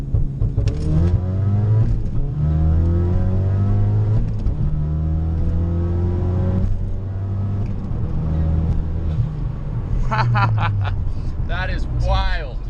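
A 2017 Ford Focus RS accelerates hard from a rolling launch, its engine climbing through loud, close revs with a gear change partway through, and a person talks over the engine near the end.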